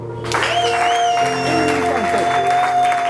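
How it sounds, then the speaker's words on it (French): An audience applauds at a French-language talk, a steady wash of clapping that swells quickly and holds for a few seconds, with a tonal hum running underneath. "Acclame d'abord pour moi."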